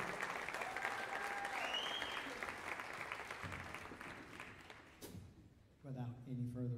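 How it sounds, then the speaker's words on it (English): Audience applause for the ECU Jazz Ensemble A at a fall 2023 jazz studies concert, dense steady clapping that fades toward the end, followed by someone talking into a microphone. "One more time, give them a big round of applause"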